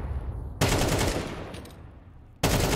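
Two loud gunshots in Rainbow Six Siege during an ESL Impact match, each a sharp broadband blast followed by a long echoing decay, spaced about two seconds apart with no talk.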